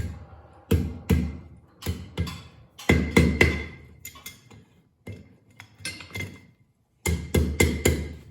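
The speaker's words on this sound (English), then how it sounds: "Sometimes very little hammering done between losing your heat." A hammer rings on hot high-carbon steel at an anvil while a flint striker is forged, struck in sharp clustered bursts with short pauses between them.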